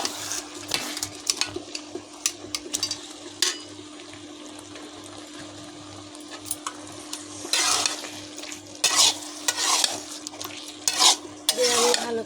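Mango chutney with sugar being stirred in a pan, with repeated scraping and clattering of a utensil against metal over a low simmering hiss, in uneven bursts of stirring.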